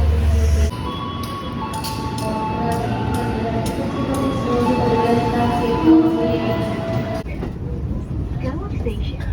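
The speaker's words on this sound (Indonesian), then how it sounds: "Kan kita tiba lagi di stasiun Lempuyangan buat naik KRL ke Solo" A KRL commuter train running from Lempuyangan station toward Solo, with a steady rumble and hum of the carriage interior and faint tonal whines, under a continuous murmur of talk from passengers, then quieting near the end.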